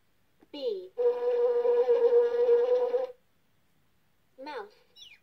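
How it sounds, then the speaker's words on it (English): Bee buzz from a toy animal sound book: a steady, nasal two-second drone, set between short bursts of a spoken word before and after. "Bee."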